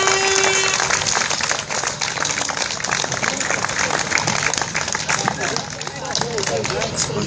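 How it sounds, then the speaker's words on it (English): Crowd applause at an outdoor child abuse awareness rally, sustained clapping mixed with cheering and voices, fairly loud and continuous. "Give him a round of applause"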